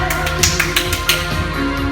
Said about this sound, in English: You can see how many claps you can get in before you catch it.